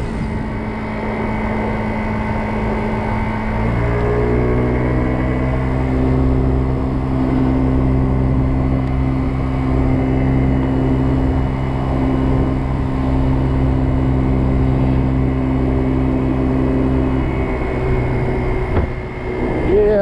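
A Kymco Agility 50 scooter engine labours steadily uphill, a continuous close drone with a shift in pitch around the fourth second, then holding a strained, even hum throughout with wind rush.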